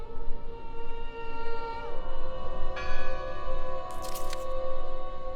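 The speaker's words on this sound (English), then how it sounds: "Listen! The bell!" Church bell in the video game Draugen, tolling with sustained, ringing tones that layer and shift, plus a brief bright clang near the end, with no talking.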